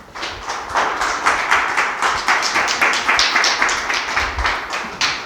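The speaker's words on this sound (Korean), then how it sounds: "큰 박수로 맞이해 주시기 바랍니다." An audience claps to welcome a lecturer at a Korean history talk in Los Angeles, a moderate, fairly sparse round of applause with individual claps audible, steady throughout.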